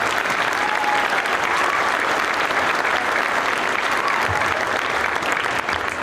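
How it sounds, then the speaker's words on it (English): A full school gym audience gives a big round of applause to the custodial staff at a high school all-city band concert, the clapping dense, even and continuous throughout. "So one big round of applause for our custodial staff."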